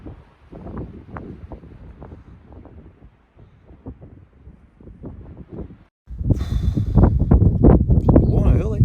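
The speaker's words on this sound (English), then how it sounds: "I need to work out which way the wind's blowing to find the right pitch" Strong, gusting wind buffets the microphone on an exposed hill summit in gusts up to 40 mph, rising and falling in rough surges before a louder, sustained blast takes over near the end.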